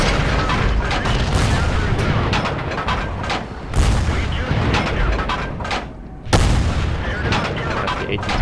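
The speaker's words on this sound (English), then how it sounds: "That's the AT2 gun, shooting HE all the time with the howitzer again." A howitzer lobs high-explosive shells in the tank game World of Tanks. Two heavy booms land about two and a half seconds apart over a dense, continuous rumble of battle noise.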